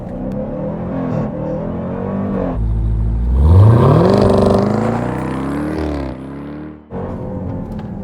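A 2026 Dodge Durango SRT Hellcat launches under launch control at full throttle: a loud close engine roar that surges upward in pitch as it pulls hard, then eases off sharply near the end.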